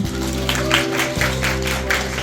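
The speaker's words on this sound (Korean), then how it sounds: "저희 어, 관계자분들도 많이 박수 한번 쳐주세요" Audience clapping at a musical stage greeting after a Korean performance of Roulette, a dense wash of applause under a steady low music bed, moderately loud and continuous for a couple of seconds.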